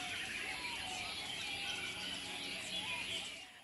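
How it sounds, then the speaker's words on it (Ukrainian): Songbirds sing at an outdoor bird song contest in a residential neighbourhood of Singapore, with overlapping chirps and trills over a steady murmur of background noise. "Найкращого пернатого співака обирали на конкурсі в Сінгапурі."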